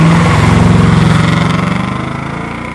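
A parked motorbike engine running close by, a loud steady throbbing putter that slowly fades as it winds down.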